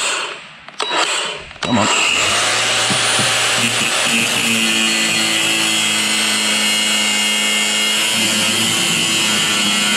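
A power tool grinds close and loud during an AV monitor installation, starting after brief handling noise and a short spoken remark, then holding a sustained, harsh whine with shifting tone.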